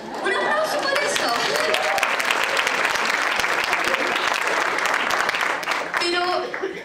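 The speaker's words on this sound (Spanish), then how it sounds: "Un aplauso por eso" A congregation at a church session on gifts of the Holy Spirit breaks into loud, sustained applause, dense clapping that swells quickly and holds throughout, with voices mixed in near the end.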